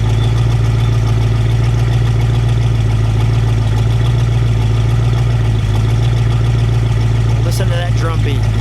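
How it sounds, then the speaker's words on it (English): A 1968 Ford Shelby Mustang GT350 with a 302 V8 and 4-speed idles close and loud with a deep, steady, throbbing rumble. A brief voice comes in near the end. "Let me just listen to it idle for a second."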